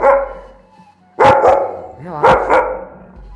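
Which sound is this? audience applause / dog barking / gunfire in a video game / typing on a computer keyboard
dog barking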